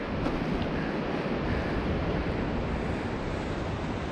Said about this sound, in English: The ocean never stops.